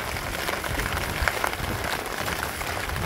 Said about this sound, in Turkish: Yaz yağmuru.